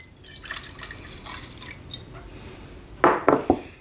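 Liquor gets poured into a cocktail shaker for a breakfast martini, with a few soft splashes and drips followed by three sharper, louder sloshing pulses close by.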